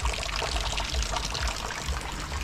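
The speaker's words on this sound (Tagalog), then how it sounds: "Grabing ulan sa amin dito ngayon" Heavy rain pours steadily, a dense continuous rush of water splashing and drumming into filled containers, loud and close throughout.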